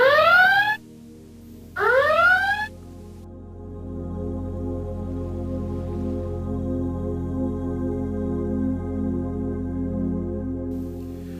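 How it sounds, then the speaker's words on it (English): Anchor watch alarm from TimeZero fleet tracking software, two short rising electronic whoops followed by a low sustained droning tone, with no voices. "As soon as the vessel leaves the anchorage circle, an alarm is triggered."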